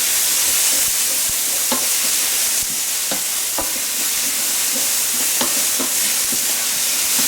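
Onion sizzles and fries steadily in a hot pan, with repeated scraping stirs and clicks from the utensil breaking through the constant hiss. No one talks.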